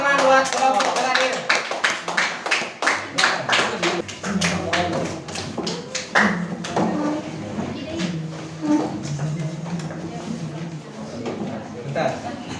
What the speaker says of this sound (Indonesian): Kasih tepuk tangan buat kelompok terakhir.